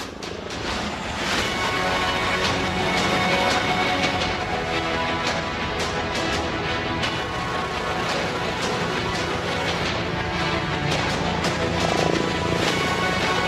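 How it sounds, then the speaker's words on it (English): An HAL LUH helicopter flies stall turns at the Aero India 2023 air show, a loud, steady rotor and turbine drone that swells and eases slightly as it manoeuvres, with faint crowd murmur beneath. "The helicopter is now performing a few stall turns in front of us"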